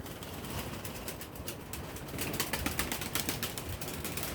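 Tumbler pigeons flying overhead, with faint wing flaps and bird sounds over a steady outdoor hiss that grows a little louder toward the end.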